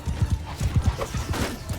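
Horses galloping in a medieval battle in Mount & Blade 2: Bannerlord, rapid loud clip-clop hoofbeats in a continuous rolling rhythm, with a faint whinny and no talk.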